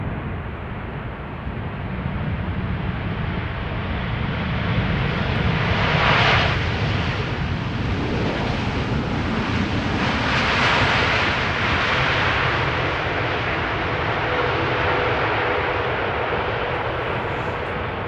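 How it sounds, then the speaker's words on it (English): A four-year-old KLM Boeing 787-10 Dreamliner, arriving at Amsterdam Schiphol from Atlanta, gives a steady, loud broadband jet roar that swells slightly around the middle and holds throughout without speech. "This is a 787-10 Dreamliner, 4 years old"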